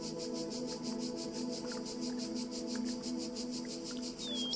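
Steady, rapid cricket chirping from The Talos Principle game pulses continuously in the background, a dense drone at moderate volume with no voices.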